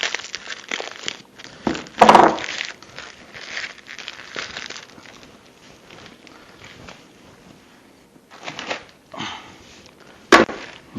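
Plastic bag crinkling in bursts while a Turncrafter Commander 12-inch lathe is unpacked, with sharp louder rustles near the start and again near the end over a quiet room.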